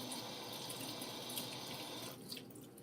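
A kitchen faucet runs steadily while a spoon is rinsed off, a continuous faint water stream into the sink that softens near the end, with a small clink.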